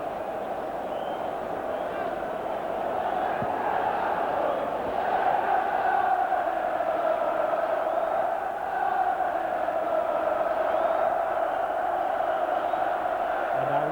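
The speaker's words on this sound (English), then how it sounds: "Applause from the Celtic fans as the Liverpool lot break into choruses of Liverpool, Liverpool." At a Liverpool versus Celtic testimonial football match, a stadium crowd of Celtic and Liverpool fans makes a steady roar of applause and chanting. A commentator talks over it throughout.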